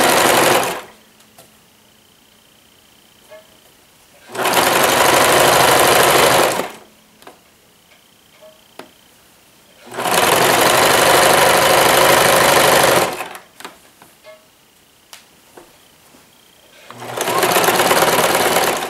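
An electric sewing machine runs overlock embroidery stitching in three loud, steady bursts of rapid whirring and clatter, each lasting a couple of seconds, separated by quiet pauses with faint handling noises.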